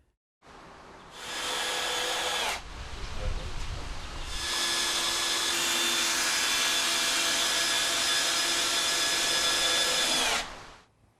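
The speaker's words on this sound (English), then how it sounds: "The rafters are then secured to the purlin with one SPAX high force 8x240 each." A power tool drives long SPAX High Force 8x240 screws through pergola rafters into the purlin. It makes a close, loud high whine in two sustained runs, with a short pause and a lower grinding rumble between them.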